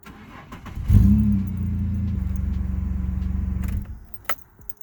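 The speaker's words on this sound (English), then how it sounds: "So after an oil change, you need to start the car." A Holden Commodore V6 fires up after an oil change, cranking briefly before catching into a steady, close idle that runs a few seconds and then cuts off, with a faint click after.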